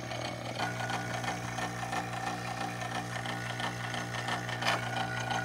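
A vacuum pump running on the air conditioning system of a two-door Honda Civic, a steady close mechanical drone with a buzzing, whirring tone that holds constant throughout.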